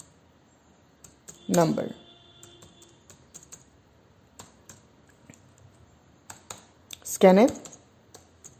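Scattered keystrokes sound from a computer keyboard while C code is typed, with sparse soft clicks under a man's intermittent speech.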